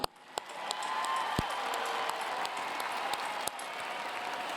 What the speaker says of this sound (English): let's give our graduates to be a huge round of applause